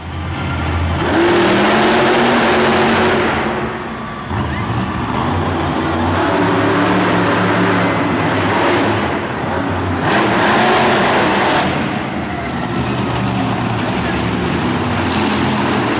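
The Batman monster truck's high-performance V8 roars loud and close, revving and surging in repeated waves as it drives and bounces over rough ground, with a voice briefly heard amid the engine noise.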